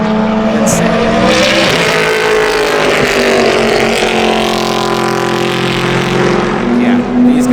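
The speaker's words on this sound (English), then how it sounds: "the G-Speed C6 is about to come through, and it is insane" The G-Speed C6 race car tears past at a time attack event with a loud, sustained engine roar that sweeps through and fades, along with crowd or track noise and brief voices.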